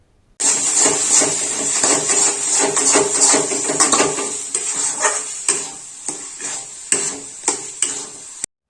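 Mashed potato mixed into spices in a pan with a spoon for Bengali aloo chop, giving steady scraping and stirring strokes over a soft background sizzle, close and fairly loud, with sharper clinks of the spoon against the pan toward the end.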